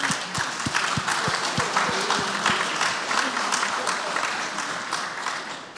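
An audience at a talk about machine-readable power of attorney applauds steadily. Dense, even clapping continues throughout at a constant level, with a few sharper individual claps standing out early on.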